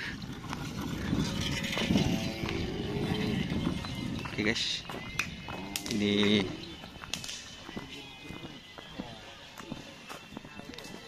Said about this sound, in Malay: kuda putih guys.